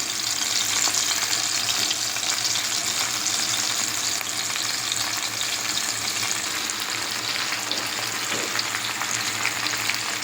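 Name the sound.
fish frying in mustard oil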